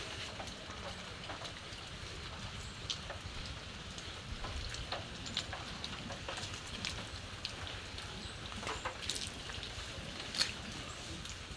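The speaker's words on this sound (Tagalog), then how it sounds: "umuulan na naman po" Steady rain falls on a surface, a soft continuous patter with occasional louder drops, no voices.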